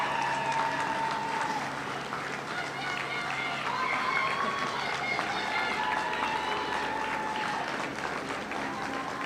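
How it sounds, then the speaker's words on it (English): Crowd applause and cheering at a welcome home celebration for Queensland Olympic and Paralympic athletes, steady and dense throughout, with whistles and raised voices mixed into the clapping. "one more round of applause to really show our Olympic and Paralympic athletes how much we appreciate them"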